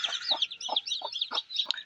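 Newly hatched deshi (native) chicken chicks cheeping in a brooder: a steady stream of high, thin peeps from several chicks, close and fairly loud, with no talking.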